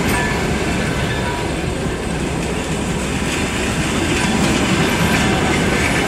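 A Moscow–Barnaul passenger train rumbles steadily past nearby, with continuous wheel noise and faint clickety-clack over the rails throughout.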